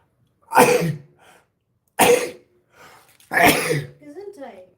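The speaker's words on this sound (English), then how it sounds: "Gesundheit is German for you sneezed." Two loud close sneezes burst out about a second and a half apart, followed by a third sneeze or cough, with brief voiced sounds between them.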